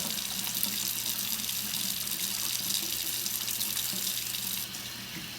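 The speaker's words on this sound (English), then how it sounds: "The next thing I do is I'm going to wash my hands, try to keep myself clean as I go." Tap water runs steadily into a sink while hands are washed during home cooking of Sicilian meat-stuffed artichokes, a constant close splashing rush that continues alone for several seconds.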